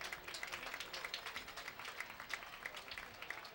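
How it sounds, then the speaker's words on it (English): Grizzly fans at a high school football game applaud as an injured player leaves the field; the clapping sounds thin and distant across the stadium. "Nick comes off to the applause of some of the Grizzly fans"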